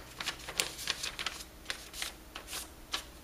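A sheet of paper pushed and slid across a surface, several short scraping swishes spaced unevenly, close and crisp with no voices.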